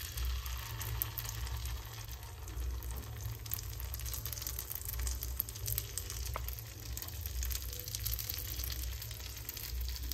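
Appe batter hits a well-heated appe pan over a low flame and fries with a faint, steady sizzle and a low background hum, with no voices.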